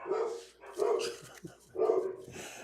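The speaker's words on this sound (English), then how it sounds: "Wow, these dogs tonight." Two dogs, one of them large, barking indoors at night in a repeated series of loud, close barks with short gaps between them. No one talks over the barking.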